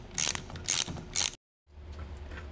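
Bolts being loosened from the throttle body of a Yamaha GP1800 jet ski: three bursts of close ratcheting clicks, a brief silence, then a fainter steady mechanical rattle.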